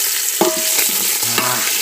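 Curry leaves sautéing in a pan over a rustic outdoor wood-fired stove for jackfruit bhaji, giving a short, loud, dense sizzle with a couple of brief bright crackles.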